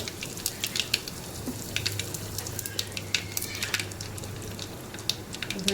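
Mustard seeds, cumin and asafoetida sizzling in hot oil, a soft continuous fry with quick crackling pops scattered throughout as the seeds splutter.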